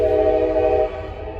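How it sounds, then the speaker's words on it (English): A train passes through a small town, its horn sounding a loud sustained chord that cuts off partway through, leaving a low rumble of the rail cars behind it. "the train goes right through town"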